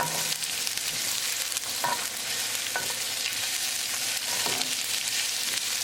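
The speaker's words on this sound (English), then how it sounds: "Now we're going to add green chili. And at the same time we're going to add onion." Onion and green chili fry in olive oil, a dense continuous sizzle close to the pan, with a few soft stirring scrapes scattered throughout and nobody speaking.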